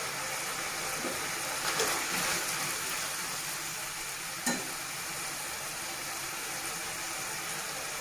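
Chopped tomatoes sizzling and frying in a pan with browned onions for a Karnataka-style tomato curry, a steady close hiss with a couple of brief stirring clatters, no talking.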